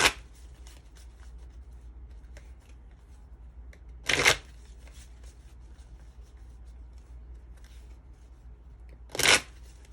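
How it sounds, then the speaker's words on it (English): Tarot cards being shuffled in two quick riffling bursts several seconds apart, close and crisp, with faint handling sounds in the quiet between them. "Let me pull a few more cards out right now."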